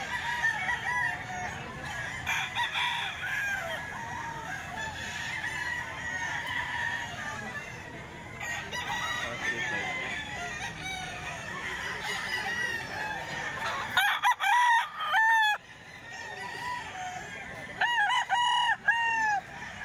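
A golden boy rooster at a market crows and clucks repeatedly, the bursts standing out clearly against background chatter and ambient noise, louder near the end.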